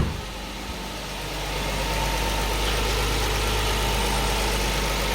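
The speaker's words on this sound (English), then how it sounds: "so it's idling pretty well." A Lexus IS200 engine idles steadily and close by, a constant low mechanical hum that settles into an even drone with no talking.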